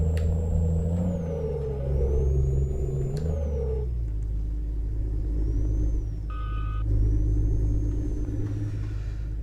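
A truck in Euro Truck Simulator 2 with ProMods drives with a steady low engine rumble and shifting pitch, a few faint tonal beeps and whines over it, no voices.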